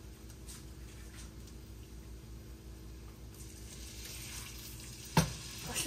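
Shrimp and sausage sizzle in a pan with Worcestershire sauce, a steady, close frying hiss with soft stirring scrapes and a sharp clatter near the end.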